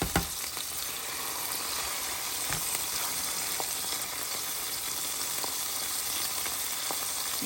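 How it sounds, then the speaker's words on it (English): Onions and beef patties sizzle steadily in a pan, a close, continuous frying crackle with a few light clinks of a utensil. "I'm going to go ahead and get our onions out so they don't burn. And then I can turn the temperature up on our patties."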